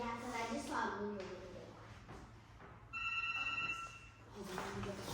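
A telephone rings with a bright, steady electronic tone in the middle of the scene, sounding beneath people talking before and after it.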